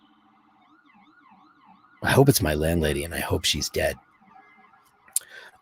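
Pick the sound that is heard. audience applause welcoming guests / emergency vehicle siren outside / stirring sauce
emergency vehicle siren outside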